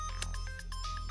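A mobile phone ringtone plays a repeating electronic melody of short tones over a low steady hum, close and moderately loud, with no one speaking.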